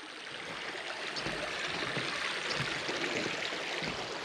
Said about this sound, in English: A babbling brook.